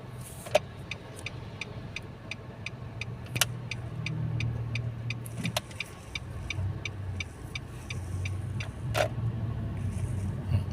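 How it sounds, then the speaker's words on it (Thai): Cars sit in a traffic jam, giving a low, steady engine rumble with passing vehicle noise, while a regular ticking repeats about twice a second over the whole stretch. "โอ้ รถติดด้วยพี่น้องด้วยรถติด"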